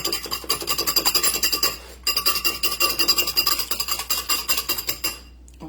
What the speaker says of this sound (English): I have 3 eggs. I'm going to go ahead and whisk up my eggs.